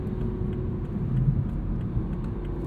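A 2021 Toyota Supra 3.0 sports car engine rumbling steadily at a low pitch, a continuous close drone with no speech.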